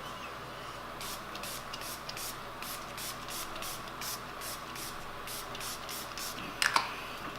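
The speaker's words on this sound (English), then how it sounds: "I'm going to use the Milani Make It Last setting spray." Repeated short hissing bursts of Milani Make It Last setting spray onto a face, about a dozen quick pumps in a steady rhythm, close and fairly quiet over a faint background hum.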